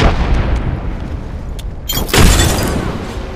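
A frag grenade detonates in Apex Legends, one loud, sharp blast about two-thirds of the way through, followed by a rumbling tail over faint background game noise.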